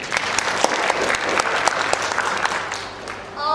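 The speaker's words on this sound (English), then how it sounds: "Let's all give one final round of applause to our judges." Audience at a poetry slam applauding the judges, a dense burst of many hands clapping that fades toward the end while a voice begins to come in.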